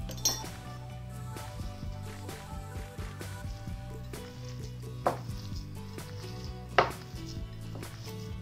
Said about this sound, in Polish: Kroję kolejną cebulkę.